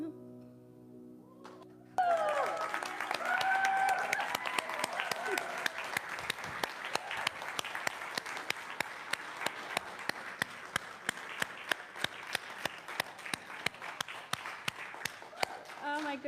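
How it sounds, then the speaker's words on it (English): Congregation in a church bursting into applause right after a song ends, the last sung note and music giving way abruptly to loud, dense clapping that stays full and sustained for many seconds. "let's give another rousing round of applause"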